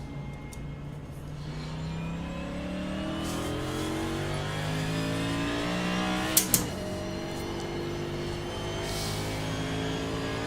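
An iRacing race car engine revving in gear, the pitch climbing through steady rising sweeps while a few sharp clicks cut in near the middle, loud and continuous with no talk.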